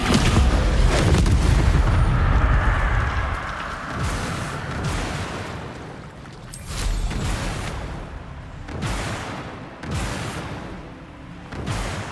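Descendo spell impacts in Hogwarts Legacy land as heavy booming crashes, a long rumbling blast at first followed by several separate loud thuds spaced a couple of seconds apart.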